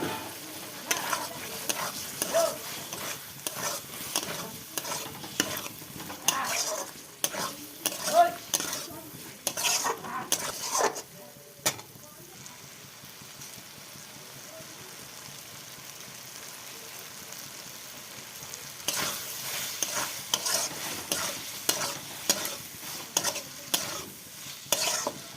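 Boiled, peeled potatoes stirred and fried in a cooked-down spice paste for a Bengali dish, with frequent spatula scrapes and clinks against the pan over a sizzle, a quieter pause midway, then brisk stirring again.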